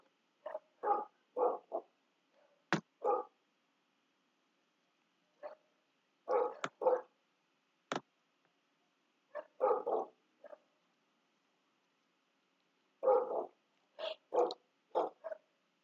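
A neighbor's dog barks in irregular bursts of several barks each, moderately distant and clear against a quiet background, with no talk.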